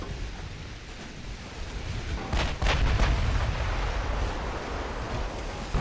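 Rockets launch in rapid succession from a multiple rocket launcher at enemy armored cruisers during an Ultimate Admiral Dreadnoughts naval battle, a rolling series of booming blasts over a steady roar of wind and sea.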